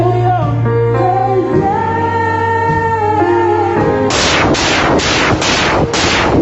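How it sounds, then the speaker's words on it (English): Sharp explosion-like blasts ring out in a rapid series of about five loud bangs near the end, following a stretch of music and muffled background noise. "This is the actual video of the time the explosions were heard."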